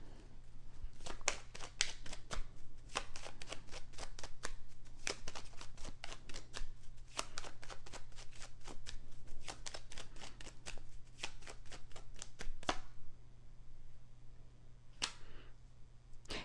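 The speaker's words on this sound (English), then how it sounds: "I'm gonna pull one more card for that." Tarot cards are shuffled in quick, crisp riffling bursts that continue for about twelve seconds, followed by a couple of isolated flicks as a card is drawn, close and fairly quiet.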